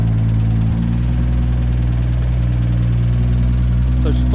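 Flood-damaged BMW M2 engine running at a steady close idle after starting, a loud, even low rumble with a slight ticking, while a person talks over it.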